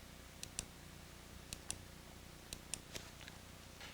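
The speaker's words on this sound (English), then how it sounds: "I now start clicking on the invoices that I want to apply my check toward." Computer mouse buttons click on a Windows accounting program, about eight to ten sharp, faint clicks spaced irregularly over a steady low hum.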